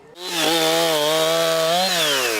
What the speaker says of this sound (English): The sounds of chainsaws echo throughout the Fairlane Mobile Home Park